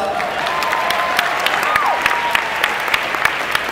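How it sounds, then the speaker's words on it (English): Audience applause at a cosplay masquerade during an anime convention, a dense, steady roar of clapping from a large crowd with faint cheers and whistles, continuous and fairly loud. "Round of applause."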